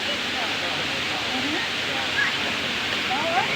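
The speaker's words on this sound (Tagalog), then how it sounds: "Ayan guys, yung Inambakan Falls guys sa Hinatilan, Cebu." Inambakan Falls in Ginatilan, Cebu, pours as a steady broadband rush of water. Voices chatter faintly beneath the constant roar throughout.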